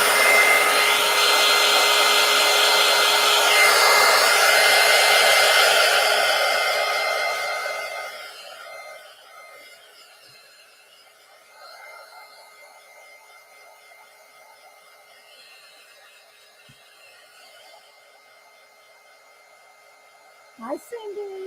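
A hair dryer blows loudly and steadily up close while drying paint on a collage pumpkin, then switches off partway through, leaving faint rustling and small clicks.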